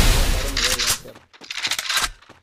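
Gunshots in a mobile battle-royale video game, with rapid loud bursts of fire followed by a second burst, mixed with game sound and a voice talking over it.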